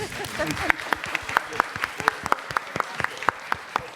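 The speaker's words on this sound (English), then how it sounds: "Quick round of applause for Carrie Fisher, please." Applause for Carrie Fisher at the Star Wars: The Force Awakens press conference, moderate clapping from a seated room with several crisp, distinct nearby claps in a loose rhythm over a softer background patter.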